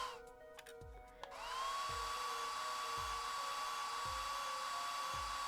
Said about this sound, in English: Just press A to blast it with that dryer.